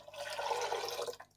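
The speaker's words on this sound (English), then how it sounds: "We're going to throw in an extra 2 cups of water" About two cups of water are poured into a soup pot, a short quiet gush of liquid that tapers off and stops after a second.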